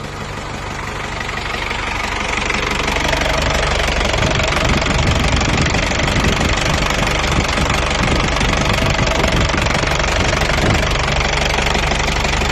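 Diesel engine of a six-wheel truck with a 115-horsepower engine and tipper bed, idling steadily with a rough, knocking rumble that holds at a constant loud level.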